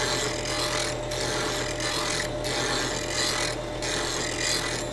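A chisel bevel is ground on a WR diamond wheel, making a continuous loud abrasive rasp with a low motor hum beneath it and short gaps where the steel briefly lifts off the wheel.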